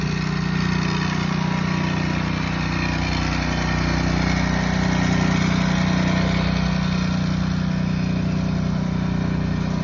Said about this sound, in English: I will be pressure washing this retaining wall. And my dad is washing the house right now.